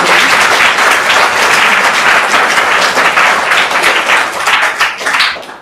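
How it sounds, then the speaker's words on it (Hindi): A game show studio audience breaks into loud, dense applause, sustained throughout before tapering off at the end. "आपके लिए कितनी तेज गड़गड़ाहट के साथ तालियां बज रही हैं"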